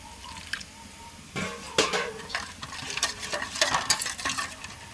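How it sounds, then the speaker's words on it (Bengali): Spices being mixed with a little water in a bowl while cooking a Bengali jackfruit and prawn dish, soft wet stirring, squishing and dripping sounds in short irregular bursts, fairly quiet and close, with no talk. "এখানে আমি সমস্ত রকম মশলা নিয়ে নিয়েছি, নিয়ে একটু জল দিয়ে গুলে নেবো"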